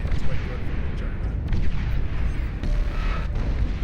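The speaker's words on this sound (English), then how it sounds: "The shotgun cannon's quite good from the Juggernaut." Juggernaut shotgun cannon firing in Beyond All Reason, a dense run of booming blasts over constant battle rumble, loud and continuous with overlapping impacts throughout.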